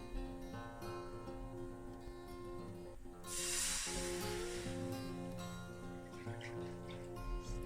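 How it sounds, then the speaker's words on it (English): Milk poured into a hot pan on high heat for Kashmiri pink chai: a loud burst of hissing, sizzling spatter rises suddenly and fades over a second or two, with kitchen hum and faint clatter around it. "we are going to now add all of the milk into the pan"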